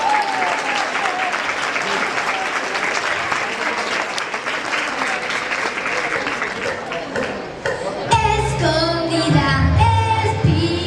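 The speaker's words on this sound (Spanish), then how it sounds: "Un fortísimo aplauso para ella." A large audience bursts into strong, sustained applause for Miriam, a young singer, steady and dense for about eight seconds before the clapping cuts off and music with voices takes over.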